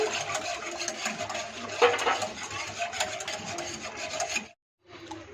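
A hand whisk scrapes and swishes as flour is stirred into milk in a pan for white sauce, giving a continuous rough rasping rhythm that stops abruptly for a moment before resuming briefly.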